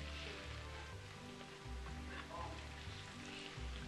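Fish for tacos frying in a pan, a steady close crackling sizzle over a low hum, with a few faint pops here and there.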